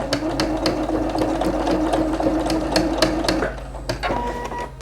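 A sewing machine runs steadily, stitching fabric for a homemade bag. Its needle ticks in a fast, even rhythm over a constant motor hum. The machine is close and loud, and it slows near the end.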